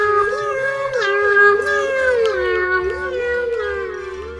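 A new animal ambulance siren designed to sound like a loud cat, wailing in a rising and falling meow-like tone that stays loud and close for several seconds, with faint rumbling underneath.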